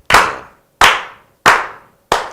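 Four slow, evenly spaced hand claps ring out loud and close, each sharp smack fading quickly into silence before the next, with no voices.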